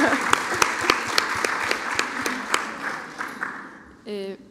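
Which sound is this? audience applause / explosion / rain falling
audience applause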